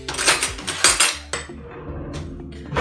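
A metal teaspoon and tablespoon clink against each other in a quick cluster of bright, close strikes, followed by a quieter pause and a few scattered clinks.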